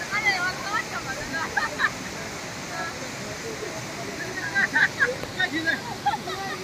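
A waterfall in Karbi Anglong gives a steady broad rush of falling water heard from some distance, with bits of faint background sound above the continuous roar.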